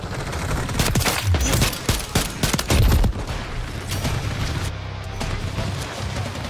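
Heavy, continuous automatic gunfire and booming shots in Modern Warfare 3, loud and dense throughout, with sharp cracks standing out early before settling into a steady barrage.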